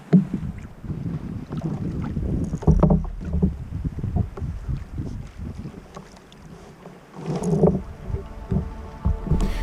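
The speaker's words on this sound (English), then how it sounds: "let me get to paddling." A kayak is paddled on water, with repeated splashing paddle strokes and water sloshing against the hull, under gusty wind buffeting the microphone; there is no talking.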